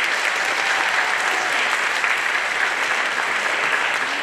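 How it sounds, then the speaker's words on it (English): Audience applause after a school band concert, a dense, steady wash of many hands clapping that fills the room without letup, fairly loud and close, with no voices on top. "give those students a wonderful round of applause"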